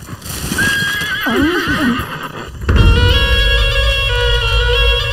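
A horse whinnies loudly with a wavering, descending neigh, then a horse-drawn carriage clatters in with dense hoofbeats and rumbling under a sustained musical drone, part of an action scene in the Tamil film Puli.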